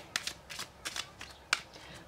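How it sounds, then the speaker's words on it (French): Lenormand cards being shuffled for a reading, several quick riffling bursts with short pauses between them, close and crisp against a quiet room. "Alors, on va faire un tirage avec le Lenormand"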